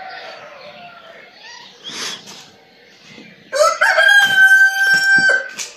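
A rooster crows loudly and close by in a long, ringing cock-a-doodle-doo that fills the second half. Softer bird calls and clucking come before it.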